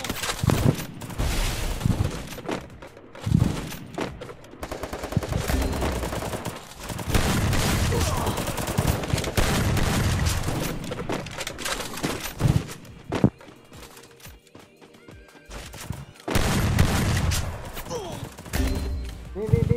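Bursts of video-game gunfire crackle and thump in rapid volleys, fading and returning over about twenty seconds with a Portuguese-speaking voice talking in between.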